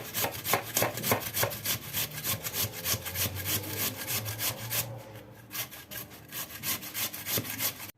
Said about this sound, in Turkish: Son patatesimizi de rendeleyelim.